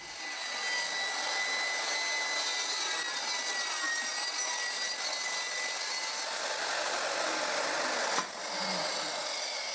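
A power saw rips steadily through the wood of a homemade rip fence jig, a loud continuous cutting whine that runs unbroken for about eight seconds before cutting off abruptly.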